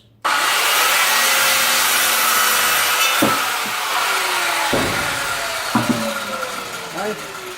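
A circular saw cuts through a bottle brush bonsai trunk with a loud, sustained whining roar of the blade in wood, its pitch dipping as the cut bites, with a few sharp knocks near the end.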